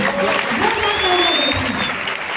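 An audience at an indoor event applauds in a steady, dense wash of clapping that stays loud throughout, with faint crowd voices mixed underneath.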